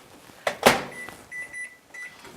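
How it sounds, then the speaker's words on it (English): Kitchen microwave oven heating a casserole dish, a door clunk followed by a steady electronic hum with short repeated beeps, close and fairly quiet. "We're going to put this in the microwave for 2 minutes."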